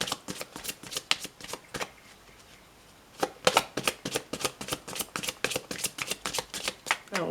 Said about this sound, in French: Alors, je vais mélanger pour vous, enfin, couper.